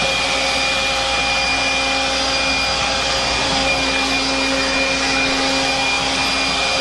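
Greenworks 40V 150 MPH variable-speed cordless leaf blower running at a steady, loud whine with a constant rushing airflow while blowing debris out of a header, unbroken for several seconds.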